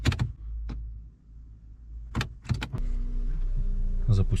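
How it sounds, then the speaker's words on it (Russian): An Audi used as a donor car being started: a few clunks and clicks, a brief crank, then the engine catches and settles into a steady low idle rumble that continues to the end. "Так, запускаем Audi."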